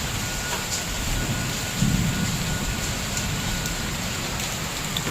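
Steady rain hisses close by, and a low rumble of thunder swells briefly near the middle before the downpour carries on alone.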